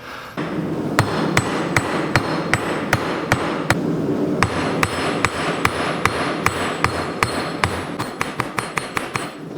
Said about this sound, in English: They'll use this part of the hammer like the cross peen.